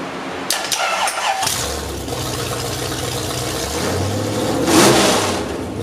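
A small block Chevy engine in a 1964 C10 cranks with a few short bursts, catches and fires up, then settles into a loud running rumble with a rev partway through.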